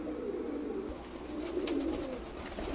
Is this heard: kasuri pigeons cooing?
yes